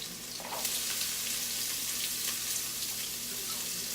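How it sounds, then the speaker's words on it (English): Onion and celery sizzle steadily in a hot pan during holiday dinner prep, a close, even hiss that holds at a constant level for a few seconds with no voices. "I'm going to put onion and celery"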